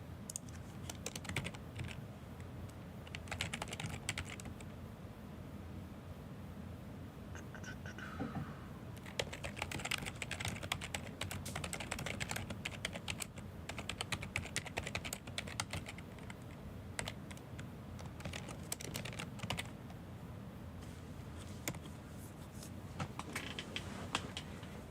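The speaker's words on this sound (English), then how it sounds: "So much typing, Dave." An author types a serialized short story on a computer keyboard, with fast irregular bursts of faint clicking and brief pauses over a low steady background hum. No voice is heard.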